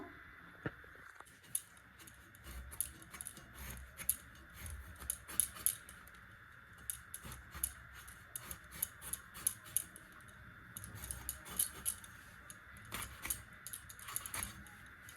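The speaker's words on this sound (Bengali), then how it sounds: "দেশি পটলগুলো কাটা হয়ে গেছে" Knife chopping desi pointed gourd into small pieces on a board, a steady run of faint, quick clicks and taps at close range, with no talking.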